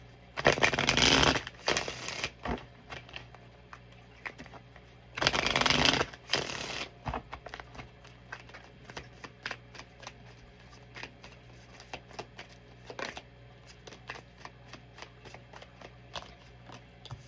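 A deck of tarot cards is shuffled close by in two loud riffling bursts a few seconds apart. Softer card handling, small taps and slides continue between and after them, with no talking.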